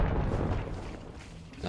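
A grenade blast in the game Hunt: Showdown, a loud low boom rolling into a rumbling decay that fills the short moment without any voices.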